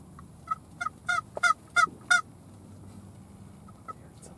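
Several wild turkey gobblers gobble in a quick burst of rattling calls, six or so in a row at moderate distance, then a couple of fainter ones after a pause, during a Wisconsin hunt.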